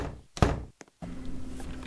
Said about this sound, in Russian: И здесь есть люк, чтобы закрыть это.